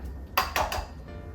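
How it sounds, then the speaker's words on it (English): Three quick cracking taps of eggs against a hard kitchen surface or bowl rim while making a sweet potato spinach quiche, close and sharp with short gaps between them. "Now I'm gonna crack these eggs"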